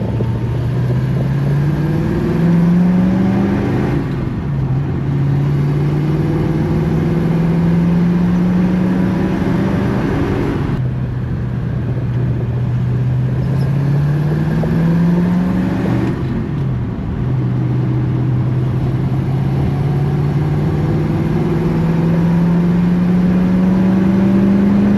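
A car engine idles steadily after a long run, with a continuous low hum and occasional rises in pitch like light revs, close and loud with no talk.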